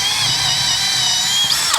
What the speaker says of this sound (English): We're going to pre-drill for this little lag bolt